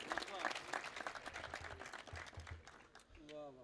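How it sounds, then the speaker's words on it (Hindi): Audience applause at a mushaira poetry gathering in Ali Pur Chattha, a dense patter of clapping from the crowd, moderately loud, with voices mixed in and fading near the end. "तालियां बजाइए इसको"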